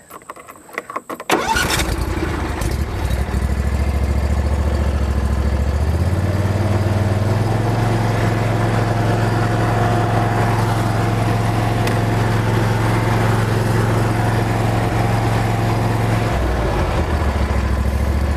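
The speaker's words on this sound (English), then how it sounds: "So let's fire it up, and I'll mow this little patch." A 2022 Bad Boy ZT Avenger zero-turn mower engine cranks briefly, catches and settles into a loud, steady close-range drone, rising in pitch as mowing begins and easing off near the end.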